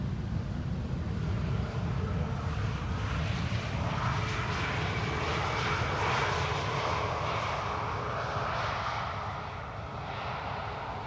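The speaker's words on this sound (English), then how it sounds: "This is TAP Air Portugal, having arrived from Lisbon." A TAP Air Portugal airliner arriving from Lisbon at Amsterdam Schiphol Airport gives a loud, steady jet engine roar that holds throughout and eases slightly near the end.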